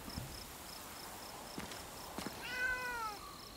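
A cat meows once in the video game Blacktail, a short rising-and-falling cry near the end, with faint footsteps and soft ambient game sounds before it.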